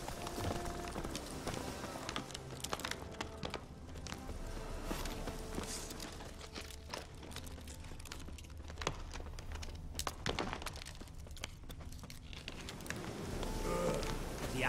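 Roach, the horse in The Witcher 3, trotting along, a steady run of rhythmic hoof clip-clops at close range with ambient game sound beneath.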